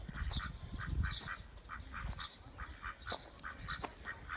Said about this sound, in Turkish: ördeklerim